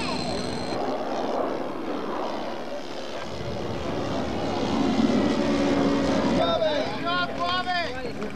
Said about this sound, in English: This is Norman's airplane.